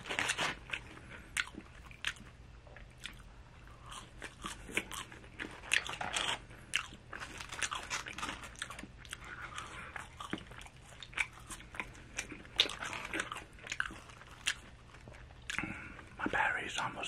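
Taco Bell nacho fries are eaten close up, giving loud, repeated crisp crunches and bites with chewing between them, while soft whispered talk runs underneath.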